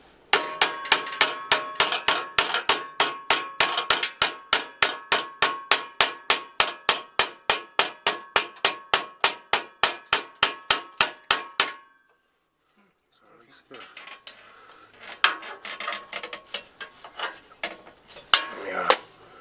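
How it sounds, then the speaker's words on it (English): Hammer taps on an exhaust pipe against the muffler flange during a Coyote swap exhaust install on a 1993 Ford Mustang Fox Body GT: a long, fast run of sharp metallic clangs, then a pause and quieter clatter and handling noise. "So I'm gonna go ahead and just give it a little bit of tapping."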